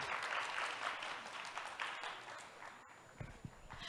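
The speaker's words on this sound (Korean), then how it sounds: "박수 보내주시고." Audience applause at a Korean public forum with the unification minister, steady clapping from a seated crowd that thins and fades toward the end.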